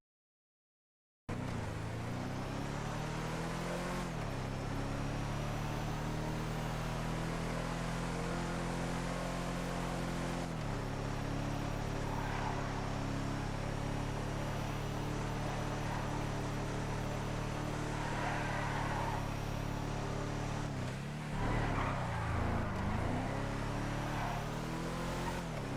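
A Karin car engine on a test drive in GTA holds a steady, low droning hum with a few shifts in pitch, fairly quiet and continuous throughout.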